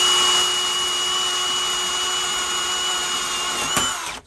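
Power drill boring steadily through a storm door during installation, a loud continuous high-pitched whine held for about four seconds before cutting off abruptly.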